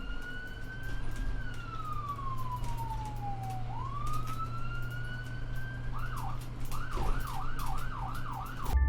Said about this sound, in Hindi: उज्जवल एम्बुलेंस के सायरन की आवाज से फिर से जाग गया